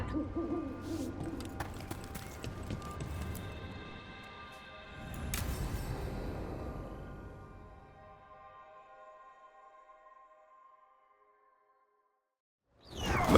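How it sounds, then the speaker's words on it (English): An owl hoots in Dragon Age: The Veilguard, soft tonal calls ringing out with airy swooshes and game effects that fade toward silence before a sudden loud burst at the end. "Another owl."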